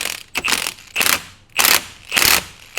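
Ratchet clicking in four rhythmic strokes as it tightens the flywheel bolt with a thick washer on a Honda 400ex engine, close and distinct with short pauses between pulls.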